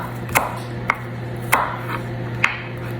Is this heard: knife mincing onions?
yes